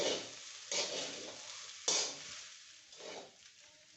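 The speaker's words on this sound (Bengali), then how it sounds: "আবার একটু মিশাই" Vegetables, egg and fried fish being stirred in a hot pan, with repeated scraping strokes over a steady oil sizzle, close and moderately loud, no talking.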